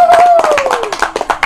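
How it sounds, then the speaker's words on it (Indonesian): A short spell of uneven hand claps from seventh-grade classmates in a classroom, mixed with a voice talking over them throughout. "Ya, beri tepuk tangan untuk kelompok 1."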